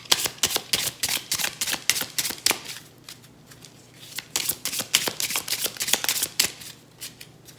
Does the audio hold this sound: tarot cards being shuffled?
yes